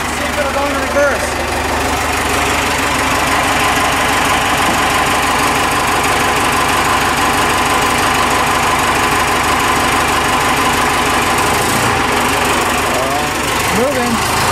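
A Ford F150 truck engine runs on a trial run, its loud, steady idling rumble with a knocking, vibrating texture continuing throughout, while people talk briefly over it.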